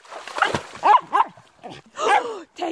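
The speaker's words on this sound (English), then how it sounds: "Who are you even barking at?" A dog barks and yips in several short, sharp bursts with brief pauses between them, close by, mixed with a few whiny vocal sounds.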